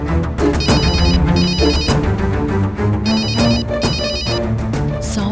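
A phone rings with a company call, its electronic ringtone pattern repeating in bursts over about five seconds, loud and close with no talking.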